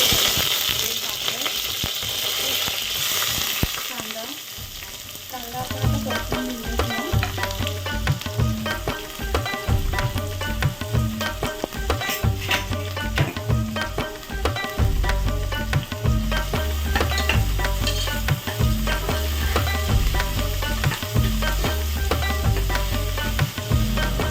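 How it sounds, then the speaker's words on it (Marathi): Chopped onion and curry leaves sauté in a pan for a traditional Konkan jackfruit seed curry, giving a steady, fairly loud sizzle with frequent stirring scrapes over continuous background music. "कांदा थोडा ब्राऊन होईपर्यंत आपण थोडा परतून घेऊया"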